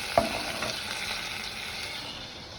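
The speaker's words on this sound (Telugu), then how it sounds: "ఒక్క నిమిషం వేగనివ్వాలి." Ground ginger and green chilli paste frying with curry leaves in a pan, a soft continuous sizzle with a sharp stir or clink of the spoon near the start, quiet and close with no voices.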